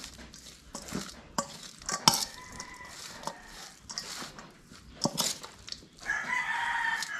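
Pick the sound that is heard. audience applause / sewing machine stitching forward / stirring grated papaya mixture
stirring grated papaya mixture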